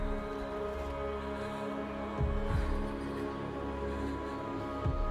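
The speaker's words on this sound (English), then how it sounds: "The heartbeat of the lost ones." Deep rhythmic heartbeat thumps pulse over a sustained droning hum in a video game trailer, a few heavier beats standing out at moderate loudness with no talking.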